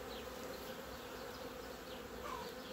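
A strong honeybee colony buzzing on a hive frame in an apiary, heard as a steady, close, continuous drone with no voices.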